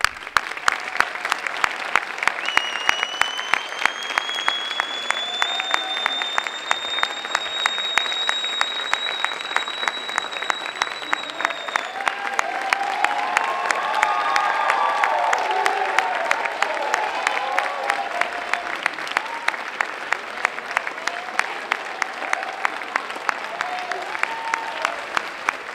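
Sustained audience applause at a youth track awards ceremony in Brockton, steady dense clapping from a crowd for about twenty-five seconds with faint cheering swelling midway.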